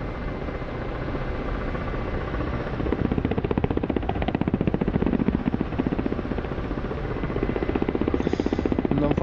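Mi-24 helicopter flying in the combat flight simulator DCS, a steady loud rotor and turbine drone with rapid blade chop that strengthens midway and holds to the end, no voices.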